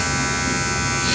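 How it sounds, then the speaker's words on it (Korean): Electric hair clippers buzzing steadily and close up while trimming hair and beard in a salon, a continuous even drone with no pauses. "그럼 일단 제가 이 바리깡을 좀 정리해드릴 테니까"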